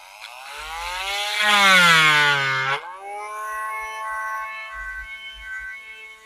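Rotary tool bit carving a birdhouse gourd, a loud high-pitched motor whine that rises in pitch, dips as the bit bites, then spins on steadily with faint knocks beneath.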